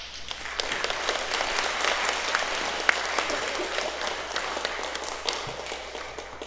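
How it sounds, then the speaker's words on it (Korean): Steady, dense applause from a church congregation at an Easter service welcoming the pastor, with sustained clapping and a few sharper claps standing out across the room. "우리 큰 환영의 박수로 맞이해 주시면 좋겠습니다"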